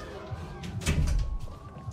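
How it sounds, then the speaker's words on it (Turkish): A door is shut, a dull thunk near the middle with a brief slam, set against soft room ambience with faint background voices. "Kapıyı kapa."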